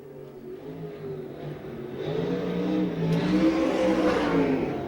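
Jay Drake's number 67 USAC National Sprint Car, Stealth chassis with Gertie engine, on a qualifying lap at Rossburg, Ohio: a loud, steady engine drone that climbs in pitch and grows louder as the car speeds by, with no talk.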